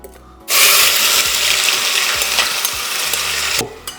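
Cumin seeds hit hot oil for rajma and erupt into a loud, close sizzle with crackling pops, starting abruptly and holding for about three seconds before cutting off sharply.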